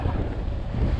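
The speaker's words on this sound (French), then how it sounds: "Voilà, il y a du vent." Wind blowing outdoors near water, a steady loud rumbling buffet battering the microphone without pause, with no voices.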